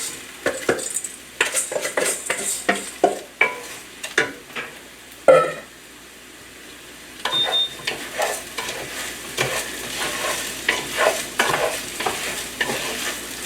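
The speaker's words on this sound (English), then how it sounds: "Now we're gonna stir in the rice." Rice is stirred into a frying chicken dish in a pan, and a spoon scrapes and clinks against the pan in irregular close strokes over a soft sizzle, with a short quiet gap partway through.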